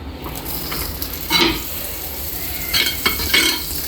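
Butter melting and sizzling in a hot pan being greased for a sprouts sandwich, a steady frying hiss with a few scraping stirs and clinks from a utensil against the pan.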